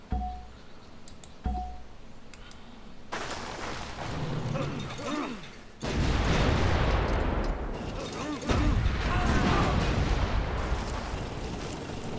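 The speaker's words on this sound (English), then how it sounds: "artillery can shoot way more than the 3 tiles that it can in the vanilla game" Artillery firing in Civilization 5 with a WWII mod: after two sharp early reports, dense overlapping booms and blasts build into a sustained loud barrage of explosions through the second half.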